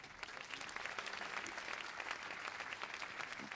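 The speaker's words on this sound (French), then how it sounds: "On vous applaudit" Audience applause at a literary prize ceremony, a dense, sustained burst of clapping from a crowd, even and unbroken throughout.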